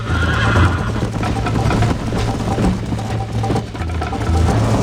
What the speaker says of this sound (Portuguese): Ah, meu cavalo ficou doido, cara.